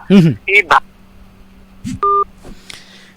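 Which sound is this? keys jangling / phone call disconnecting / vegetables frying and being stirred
phone call disconnecting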